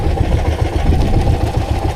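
A fishing boat's engine chugs steadily out on the Pacific, its low, pulsing beat slightly uneven as if misfiring, close and continuous with no voices.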